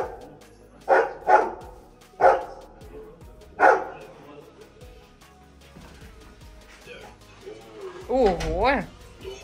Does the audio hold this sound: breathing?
no